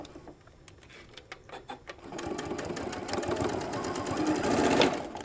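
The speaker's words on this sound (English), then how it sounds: "So we're going to give it a top stitch all the way across." A sewing machine runs a long top stitch across a shoulder bag, starting with a few short bursts and then whirring steadily and close, growing louder toward the end.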